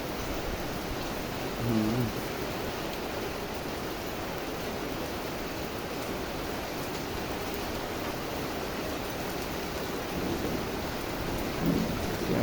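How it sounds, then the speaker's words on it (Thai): Steady heavy rain with wind fills the scene in Khlong Sam Wa, Thailand, with a couple of low rumbling thunder swells rising briefly above the downpour. "ฟ้าร้องฟ้าแลบด้วยนะครับ"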